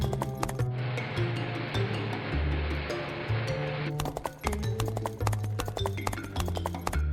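Horse hooves gallop steadily in a cartoon story as thieves flee toward a forest, a fast continuous clatter over a loud music track, with no talk heard.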